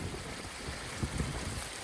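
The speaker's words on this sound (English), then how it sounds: "A nice little waterfall here." Small waterfall of drainage water outdoors in cold New England weather, a steady close rush and splash of falling water, blended with wind noise and no talking.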